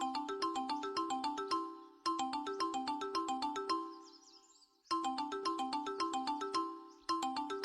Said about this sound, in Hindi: मुंह क्या देख रहा है, फोन उठा